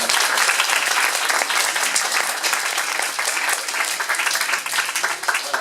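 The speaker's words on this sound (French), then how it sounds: "Bravo, on peut l'applaudir, bravo Charles." Loud, dense applause for a child named Charles at a prize ceremony, many hands clapping close by and continuously from start to finish with no pauses.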